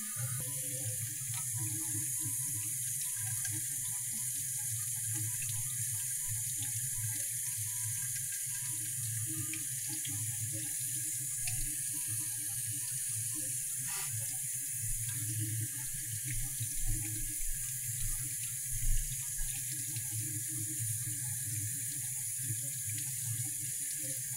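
A tap runs steadily and continuously at a sink while dirty fountain pen parts with dried ink are rinsed. The even hiss of flowing water is heard close by, with occasional small clinks and no talking.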